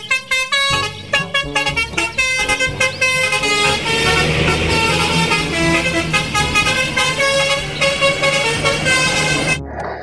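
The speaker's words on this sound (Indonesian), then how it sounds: "Yang ini ada mobil bus telolet." A toy bus plays a telolet horn, a bright, loud electronic melody of rapid tooting notes, some short and separate, then a continuous tune that runs for several seconds before it cuts off.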